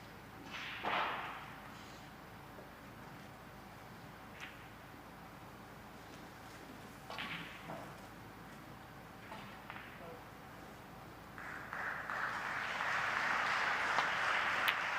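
Applause for a century break at a snooker World Championship qualifying match swells from a distance, growing into a broad, sustained clatter of clapping near the end after a quiet stretch marked by scattered thuds.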